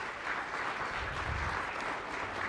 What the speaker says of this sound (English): So round of applause for the Secretary and his team for that.